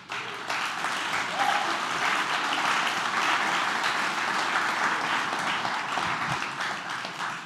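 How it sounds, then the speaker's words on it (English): A conference audience claps steadily in sustained applause, dense and fairly loud throughout, tapering slightly at the end, with faint voices mixed in. "I'd also like to ask him to stand up so we can also give him a round of applause"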